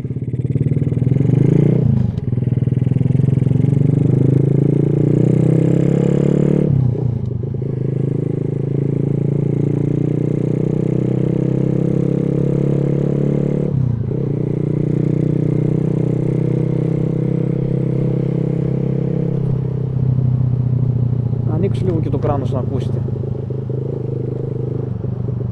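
A Daytona motorcycle's engine drones steadily while riding, with gear shifts breaking the hum every few seconds and a steady rush of wind throughout.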